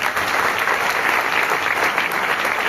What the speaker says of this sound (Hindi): एक बार इन सबके लिए जोरदार तालियां हो जाए।